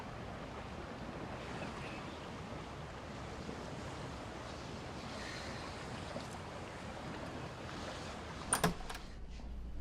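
Sea waves wash steadily outside a seaside hotel, a continuous broad rush of surf with some wind; near the end a few sharp knocks or clicks sound briefly.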